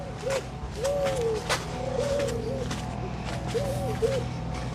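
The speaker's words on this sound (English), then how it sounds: "it's so peaceful, you can listen to the birds" Birds call around the grounds of the Plantation House resort, with repeated cooing, dove-like phrases rising and falling in short bursts over a soft, steady outdoor background.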